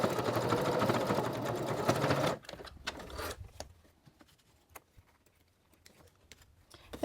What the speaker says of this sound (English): when I come back to this stitching, I'm going to cross it just a little bit and back stitch to secure it all in place